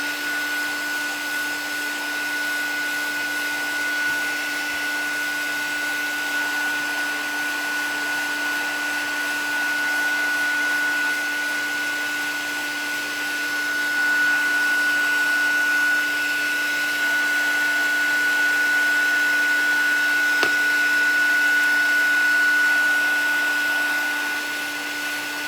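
A heat tool blows continuously over polymer clay being warmed for a second coat, a steady close whooshing hum with a constant tonal whine, swelling slightly louder toward the end.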